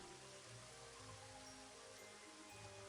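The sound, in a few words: rain in video game Elder Scrolls 2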